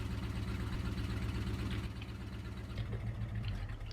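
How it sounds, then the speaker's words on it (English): A tractor engine idles in Farming Simulator 22 on a 1950s-era farm, a steady low rumble that dips slightly midway and continues without any voices. "Turn the tractor off."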